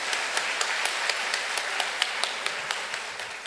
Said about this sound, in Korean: 특강을 해주신 한 사무엘 목사님께 큰 박수 주시겠습니다.